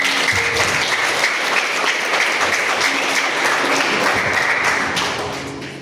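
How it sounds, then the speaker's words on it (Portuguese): A church congregation applauds during a communion service, dense sustained clapping from a crowd that holds steady, then begins to taper off at the end. "Quantos podem aplaudir o Senhor?"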